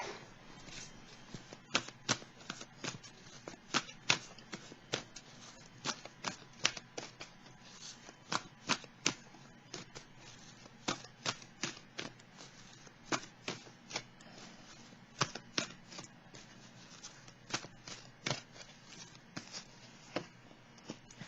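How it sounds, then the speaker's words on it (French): Tarot cards are shuffled and drawn in a quiet room, giving a steady run of crisp, close card flicks and snaps, irregular but frequent, with no talking. "Je vais piger une autre carte ici"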